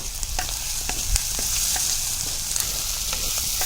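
Onions and grated coconut sautéing in hot oil for Chettinad mutton curry, a steady bright sizzle broken by scraping stir strokes and a spoon knock, close and alone without talk.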